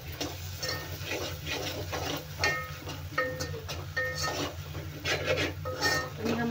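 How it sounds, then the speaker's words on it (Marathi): A spatula scrapes steadily through masala with coriander powder roasting in oil in a pan, a soft, repeated rasping that keeps up throughout at close range. "हा मसाला आपल्याला तेल सुटेपर्यंत छान भाजून घ्यायचा आहे"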